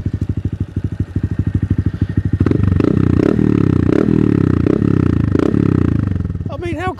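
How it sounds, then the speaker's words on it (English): A Honda Monkey 125 motorcycle idles in neutral with a steady, pulsing exhaust note, then is revved and held at higher engine speed for several seconds before easing off, loud and close. "I'm in neutral. I mean, listen to that exhaust. It's brilliant. I'll give it a bit of a rev as well."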